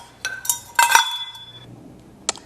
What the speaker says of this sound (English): I move everything over so I can show you my my pans, my cookie sheets